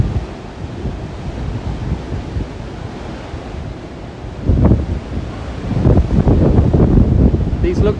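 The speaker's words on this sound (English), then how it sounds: "These look to be very close to eye wall winds." Typhoon Podul near the eye wall at Taimali, Taiwan: roaring wind buffets the microphone over crashing surf, the gusts surging harder partway through, with a voice faintly underneath.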